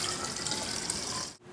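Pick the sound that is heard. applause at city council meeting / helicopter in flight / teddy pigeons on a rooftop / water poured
water poured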